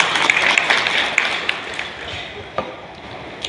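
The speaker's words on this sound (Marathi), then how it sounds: "त्यांच्यासाठी टाळ्यांचा गजर आपण करावा" Crowd applause at a paramilitary soldiers' association memorial honoring soldiers killed at Pulwama: a steady, dense patter of clapping with a few sharper claps standing out, gradually thinning toward the end.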